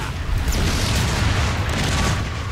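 Riot cannon firing in Transformers: Fall of Cybertron, a loud, dense, continuous booming blast that fills the whole stretch without a break.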